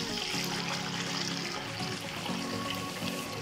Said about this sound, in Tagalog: Punuin natin ng tubig.